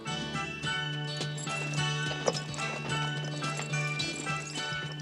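Horse hooves clip-clopping in a steady rhythm on a Western film soundtrack, heard under a sustained musical tone with occasional faint jingling.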